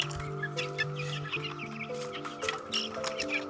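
Chickens and brood roosters at a farm in the Appalachian Mountains cluck steadily in a busy flock, close and continuous, with no people talking.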